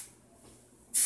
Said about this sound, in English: Now I'm going to take the Biotin Volume Hairspray, again, the Ultime line.